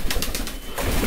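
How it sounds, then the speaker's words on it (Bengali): A pigeon at a pigeon farm coos in low, repeated throaty pulses, close and clear, with no talk over it. "তো এই কবুতরের বাচ্চাটি একদম ইউনিক একটা বাচ্চা"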